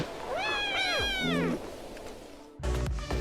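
A lynx in the video game Shelter 3 gives two drawn-out, wavering meows close up, followed by a pause and a short burst of rustling noise.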